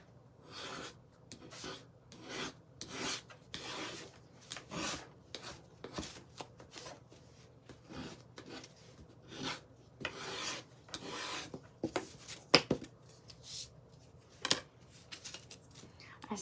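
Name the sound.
putty knife scraping paint off wooden slats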